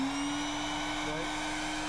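Electric air pump powered from an inverter outlet in a pickup truck bed on a Maine fishing and camping trip, running with a steady, loud droning whine and buzzing motor hum, close and continuous throughout.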